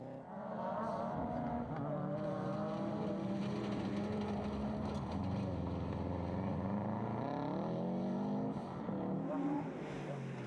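Rally cars race along a stage, a Corsa following close behind another car, their engines a sustained, loud roar that climbs and shifts in pitch as they pass.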